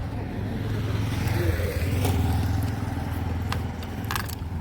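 A vehicle engine idles steadily in neutral with a low, continuous rumble, while faint clatter and scraping noises come and go in the background.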